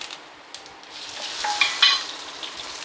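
Mustard seeds, cumin, curry leaves and dried red chilies sizzle in hot sesame oil, a close, steady frying hiss that swells midway with sharp crackles and pops.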